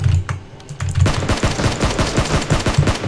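Rapid automatic gunfire from PUBG Mobile rattles in a dense, continuous burst of close, sharp shots after a brief quieter moment at the start.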